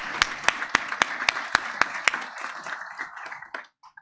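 A regional institute audience applauding representatives begins with a run of sharp, evenly spaced claps, then swells briefly into looser scattered clapping that thins out and stops within a few seconds.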